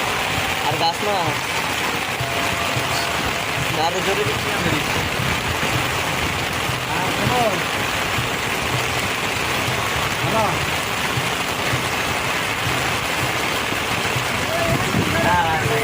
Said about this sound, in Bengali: আমরা মাত্র নদীর মাঝখান থেকে সাইডে চলে আসছি তখনই বৃষ্টি চলে আসছে